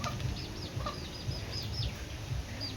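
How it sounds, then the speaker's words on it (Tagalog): A tethered rooster in a rural yard gives repeated clucks and short calls at close range, over a noisy, rumbling outdoor background with no talking. "Meron kaming tandang dyan na tinali ni Papa"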